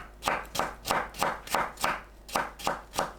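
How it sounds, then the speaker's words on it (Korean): A knife julienning a peeled cucumber on a cutting board, quick even strokes in a steady rhythm of about three chops per second, close and clear with no talking. "오이를 채 썰어주세요."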